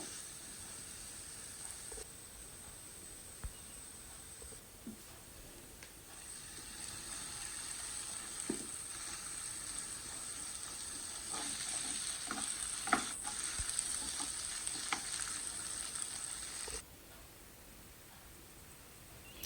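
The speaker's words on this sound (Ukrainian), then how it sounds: "вкидаю ще сюди до цибульки моркву. Трішки обсмажую" Carrots and onion fry softly in a pan, a steady low sizzle with occasional stirring scrapes and clicks, fairly faint and without talk.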